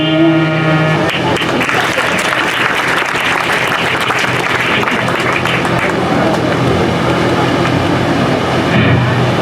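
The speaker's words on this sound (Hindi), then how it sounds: "नंदनी के लिए एक बार जोरदार फिर से तालियां बजा दीजिए आप लोग।" Loud, sustained audience applause at a school Teachers' Day celebration after a singing performance, dense clapping rising after a brief music tail and continuing steadily to the end.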